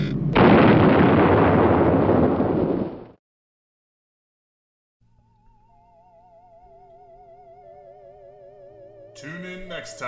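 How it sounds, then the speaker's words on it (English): Atomic explosion sound effect for a self-destruct sequence: a loud, booming blast lasting about three seconds cuts abruptly to silence, followed by faint wavering electronic tones. "Self-destruct initiated, commencing atomic explosion."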